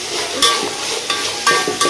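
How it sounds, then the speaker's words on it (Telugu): Ginger garlic paste fries in hot oil for Telangana-style bagara rice, giving a soft continuous sizzle punctuated by a few sharp stirring scrapes against the pan. "ఇప్పుడైతే ఈ అల్లంని కూడా మంచిగా పచ్చి వాసన పోయే వరకు అయితే ఫ్రై చేయండి"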